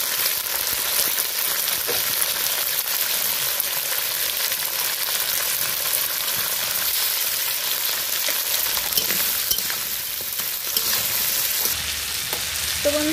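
Cut crab pieces frying in a pan, a constant loud crackling sizzle that holds steady throughout, with faint stirring clinks near the end.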